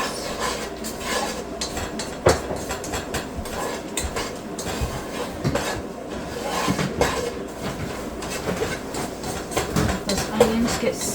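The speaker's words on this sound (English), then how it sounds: "Give this a good stir around with those onions." Onions stirred with black pepper in a pot, heard as continuous scraping and clattering of a spoon against the pot at close range, with no talk.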